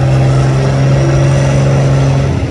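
A John Deere 4010 tractor engine roars at full throttle during a county fair tractor pull, a loud, steady, droning rev with a strong low hum held throughout the short stretch.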